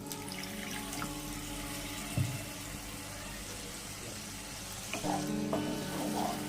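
Water splashing into frying masala for a Bengali katla fish kalia, with a pouring stream and bursts of sizzling and bubbling in the pan, fairly quiet and close, no talking.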